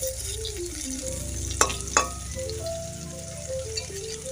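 Lentil fritters (bora) frying in a pan, a steady close sizzle with soft stirring clatter and two sharp utensil knocks partway through, no voices.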